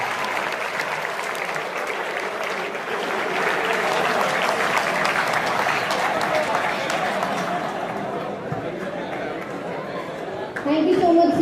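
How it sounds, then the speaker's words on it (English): Audience applause at a GATE exam awareness session in a university hall, a steady wash of many hands clapping that swells midway and carries on loudly, with crowd chatter mixed in. "Please give sir a big round of applause once more."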